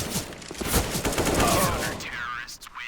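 An AWP sniper rifle fires in CS:GO while holding middle on Dust 2, with loud, dense game gunfire and crackling shots filling the mix and a brief high ringing tail at the end.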